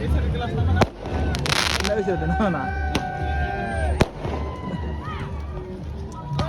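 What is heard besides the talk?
fireworks going off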